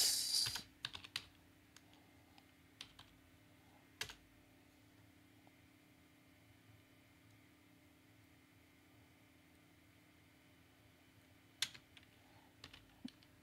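Keys on a computer keyboard click in scattered taps and short bursts over a quiet room hum, with long pauses between clusters.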